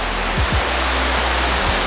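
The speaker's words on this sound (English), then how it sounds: "The waterfall, still here." A waterfall's steady broadband rush fills the scene continuously, loud and close, with a few low thumps or passing rumbles underneath.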